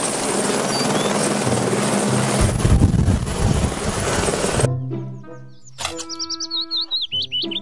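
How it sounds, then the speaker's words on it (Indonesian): A toy helicopter's loud, steady rotor roar fills several seconds, then cuts off abruptly, followed by high, chirpy electronic tones. "Helikopter"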